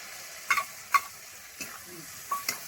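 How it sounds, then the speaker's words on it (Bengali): Drumstick flowers frying with onion in a pan, a soft sizzle under several sharp spatula scrapes and taps spaced about half a second to a second apart. "পেঁয়াজের সঙ্গে সজনে ফুল 2 মিনিট মতো ভেজে নিচ্ছি।"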